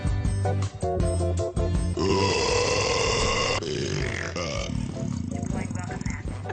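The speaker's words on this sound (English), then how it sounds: "You nasty burp again" A long, loud, guttural burp rumbles on for several seconds, close up and mixed in with voices.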